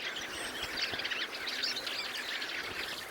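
Fieldfares feeding on fermented rowan berries in the Tatra Mountains, giving a dense, continuous chatter of high chirps and calls from a flock, fairly faint and steady throughout.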